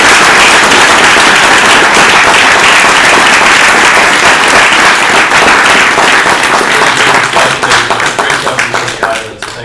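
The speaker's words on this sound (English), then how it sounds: "first a round of applause for this" Loud, dense applause from an audience at the close of an institute retrospective event, sustained for several seconds before thinning out and tapering off near the end.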